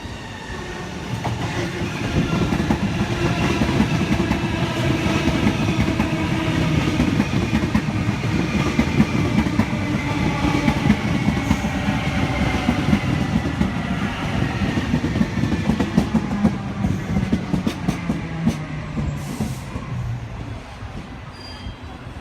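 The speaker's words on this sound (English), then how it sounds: "We have a Waratah approaching platform 4 for a Hornsby by Macquarie Uni service." A Sydney Waratah electric train runs through a station platform, a loud steady rumble of wheels on rail with faint squeals and clatter, close by and continuous throughout with no talk.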